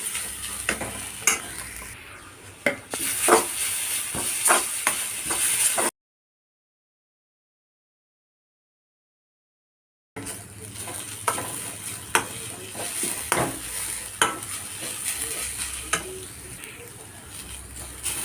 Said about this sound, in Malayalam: തേങ്ങയുടെ കൂട്ടുണ്ടല്ലോ അതും കൂടി ഇട്ടുകൊടുക്കാം ഇതാ ഇത് ഇട്ടുകൊടുക്കാണ് കേട്ടോ നന്നായിട്ടൊന്ന് മിക്സ് ചെയ്ത് കൊടുക്കാം